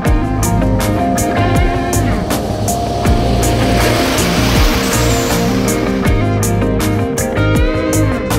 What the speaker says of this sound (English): So Sean has arrived in his big truck here. Big military truck.